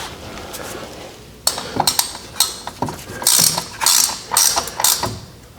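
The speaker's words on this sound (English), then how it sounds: "So now we need to torque down those 4 bolts" Ratchet clicking in short bursts while torquing the wheel bearing bolts on a Chrysler 200, metallic pawl ticks repeating in quick runs, close and fairly loud, with brief pauses between strokes.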